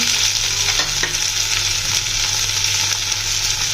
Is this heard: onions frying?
yes